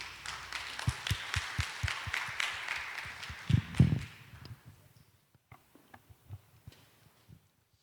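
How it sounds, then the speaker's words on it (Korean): Audience at a Korean AI technology summit claps to welcome a speaker, a brief round of applause that swells, then thins into scattered individual claps and fades out. "환영의 박수 부탁드립니다."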